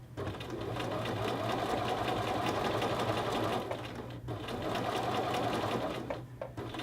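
A sewing machine stitches a men's shirt collar band at a 5/8 inch seam, running in a steady, close mechanical whir with a brief pause partway through.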